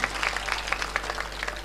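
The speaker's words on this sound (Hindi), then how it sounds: "एक बार जोरदार तालियां बजाओ" An audience at an all-India Hindi kavi sammelan poetry recital in 2016 applauds: a dense, steady wash of many hands clapping at moderate distance, with no voices rising above it.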